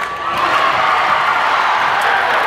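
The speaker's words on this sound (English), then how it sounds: "Crowd erupts." A basketball crowd at a high school state championship game roars in sustained cheering, loud and close throughout, with shouts and whoops mixed into the dense wall of noise.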